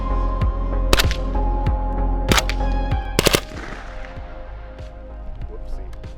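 Rifle shots fired while zeroing a day optic: about four sharp, loud cracks at irregular intervals, the last two in quick succession, over a steady low hum.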